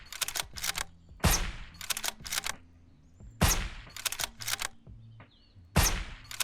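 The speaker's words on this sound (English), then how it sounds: "We'll use the hunting rifle on him." Hunting rifle shots in the Surroundead zombie survival game, sharp loud cracks spaced a couple of seconds apart with quieter mechanical reloading clicks and rattles between them.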